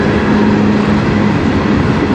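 A CN freight train, the 149, passes on the Strathroy Subdivision, producing a loud, steady rolling rumble with a low hum underneath, close by and unbroken throughout, with no voices.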